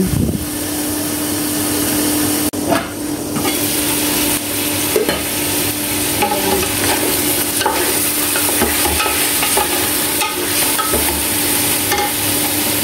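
Chicken curry with eggs simmers and sizzles in a pan on the stove, a continuous loud frying hiss with occasional scraping stirs and clinks throughout.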